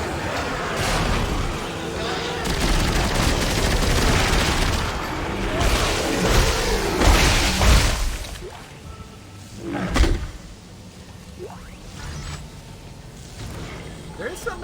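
Gunfire and combat noise from the video game Dead Space 3: loud, dense bursts of shots and impacts, then sparser single blasts and mechanical whooshes, with voices talking over the action.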